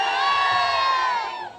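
A large village crowd at a festive gathering cheers and shouts together in a loud, sustained roar that swells and then begins to fade at the end.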